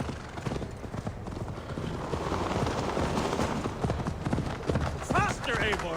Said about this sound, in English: Your horse is slow, and her rider's drunk.